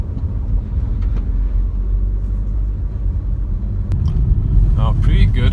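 A Škoda Karoq 2.0 TDI 4x4 grinds through off-road mud with a loud, low rumbling drone and cabin thumps from the bumpy ground, a few sharp clunks, and a voice briefly audible near the end.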